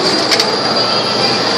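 Train arriving at a station, a loud continuous rumble with a high squealing wheel tone, close by.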